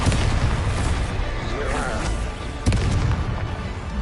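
In Hogwarts Legacy gameplay, a Bombarda spell explodes amid loud, rumbling booms and blasts, with a sharp burst partway through, while a voice speaks over the din.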